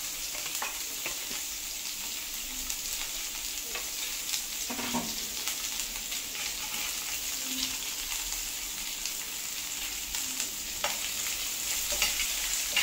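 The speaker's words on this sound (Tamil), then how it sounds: "இது நல்லா வதங்கி வரட்டும்." Small onions sauté with cinnamon, cloves and fennel in a kadai, giving a steady soft sizzle with occasional light scrapes of stirring, fairly quiet and with no voices.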